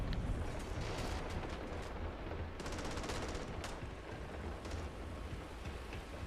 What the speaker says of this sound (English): I hear people shooting all over the place, but I don't see anybody